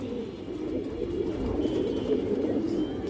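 Pigeons, including ring-eyed birds of an old local breed, coo in a low, steady murmur that continues throughout, close and fairly loud with no voices.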